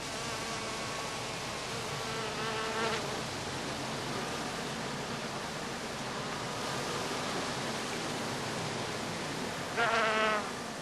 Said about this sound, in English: In good weather, the bees now find plenty of pollen and nectar in the blossoms of Calluna vulgaris